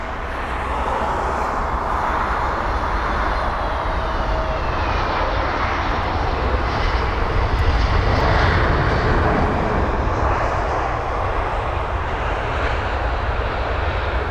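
A British Airways Airbus A320neo jet passes at London Heathrow on a warm day, a loud, steady engine roar that holds broadband and constant throughout, with no voices over it.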